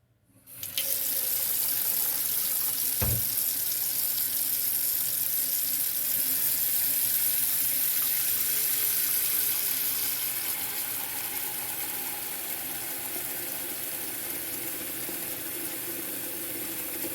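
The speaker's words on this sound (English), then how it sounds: "So we're going to put water in our pot to the first line on the bottom." Tap water rushes steadily into a pressure canner pot being filled for canning tomato basil soup, a constant loud hiss and splash with a single dull knock early on.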